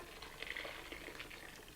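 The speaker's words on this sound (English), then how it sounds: "take some boiling water from the kettle, pour it over" Boiling water poured from a kettle over cracked wheat, a steady soft splashing and trickling stream that runs evenly throughout, close by and fairly quiet, with no talking.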